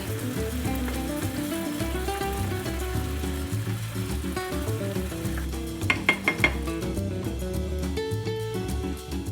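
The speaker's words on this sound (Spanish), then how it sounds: "Y ahora dejo en fuego muy bajito que se termine de hacer el tomate" Tomato sauce cooking in a pan over very low heat gives a steady, soft sizzle, with a short cluster of utensil clinks partway through.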